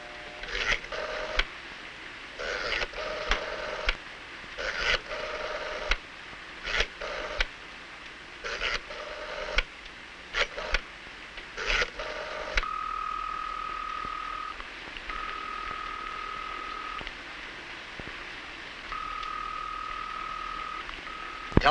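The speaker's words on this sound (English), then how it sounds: "I'll call him to see if he's coming on the picnic." An old telephone is dialed to call a friend: rhythmic bursts of dialing tones repeat for about twelve seconds, then a steady ringing tone pulses in regular intervals, moderately loud with no talking.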